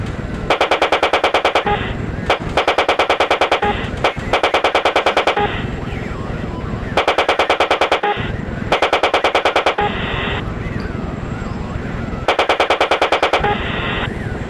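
Guns mounted on an air force fighter jet fire at militant targets in repeated rapid bursts of automatic fire, loud and close, over a constant roar between bursts.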